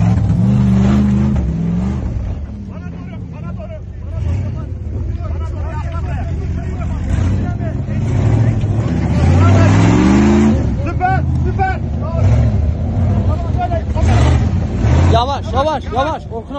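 An off-road vehicle's engine revs and surges loudly as the driver gives gas, rising and falling roars close by, with people shouting and talking over it throughout.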